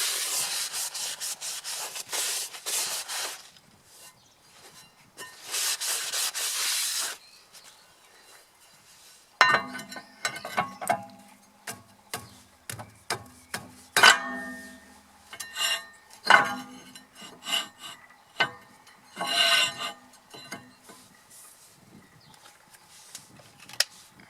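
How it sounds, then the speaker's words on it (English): Grease is rubbed off the rear brake disc of a 2008 Citroen Xsara Picasso, making close, rasping strokes in irregular bursts, with occasional light metallic clinks and pauses. "Clean off any grease that might be on the disc."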